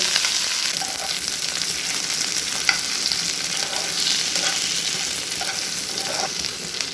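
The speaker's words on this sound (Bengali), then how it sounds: "তেলের সাথে আমি একটা টমেটো দিয়ে দিয়েছি এখানে, ভালো করে মিশিয়ে নেব।" Tomato frying in hot oil, with onion, while being stirred: a steady, loud sizzle throughout, punctuated by scattered scrapes and small clinks of a spoon against the pan, with no voices.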